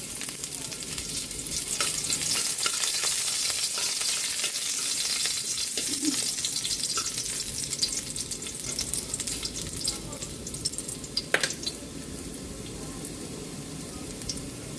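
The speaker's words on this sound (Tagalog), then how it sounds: "Magigisa na po tayo ng bawang sibuyas para sa ating ginisang tulya." Garlic, onion and ginger sautéing in a pan for a Filipino clam dish, giving a steady sizzle and frying crackle throughout with occasional stirring scrapes, fairly close and with no voices.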